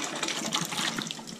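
Water rushes steadily into a residential steam boiler as it refills after the low water cutoff trips, a continuous splashing, hissing flow heard close up with no talk over it.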